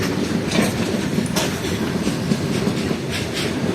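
A train rumbles steadily past the Iqbal railway gate level crossing, its wheels clattering close and loud over the rails.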